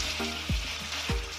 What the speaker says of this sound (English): When the oil is hot, carefully add the meat.